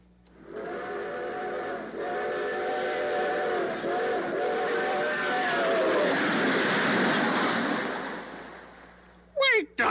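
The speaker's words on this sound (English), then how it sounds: "That is the sound of a train." A recorded train sound played from a toy sound box: a rumbling run with a steady whistle tone that builds, then fades, ending in a few short squeaky blips.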